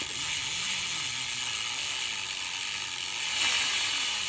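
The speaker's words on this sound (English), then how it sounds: "I like that sound when it rolls faster." A bicycle rear hub with a Primo Remix freewheel ticks in a rapid, even ratcheting buzz as the wheel rolls, close and steady at moderate volume under a faint whir, with no voices.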